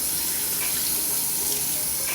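Warm water pours steadily from a shower onto hair as styling product is rinsed out, a constant close hiss of running water with no talking.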